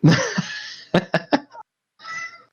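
A pet cat meows loudly several times in short, separate calls, close by, with a brief pause before a final drawn-out call.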